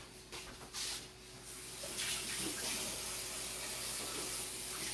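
Tap water runs steadily into a kitchen sink as a finger is washed, a continuous close hiss with a few splashy bursts early on.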